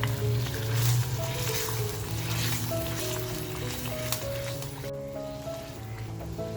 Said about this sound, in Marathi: पाणी बघा अगदी उकळतं पाणी टाकते